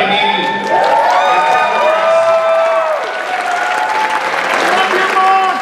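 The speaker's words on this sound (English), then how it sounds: "How about a round of applause for Martin Eden?" A loud crowd claps steadily, with cheers and whoops rising over the applause throughout.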